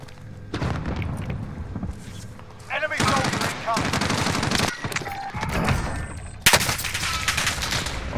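Heavy automatic gunfire rattles in Call of Duty: Modern Warfare, with long rapid bursts, scattered booms and sharp impacts layered over one another, close and loud, while voices talk throughout.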